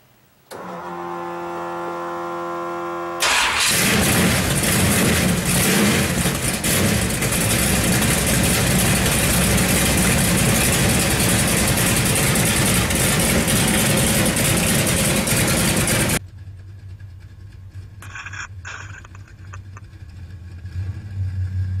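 A car engine starts with a sudden loud roar after a brief electronic tone, then runs at a steady high idle close by for about thirteen seconds before cutting to a quieter rumble.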